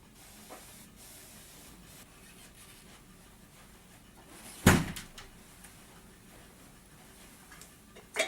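A burst of Cimi-Shield insecticide sprayed inside a box spring cover in a hotel room, one short sharp hiss standing out from quiet surroundings, with a faint knock near the end.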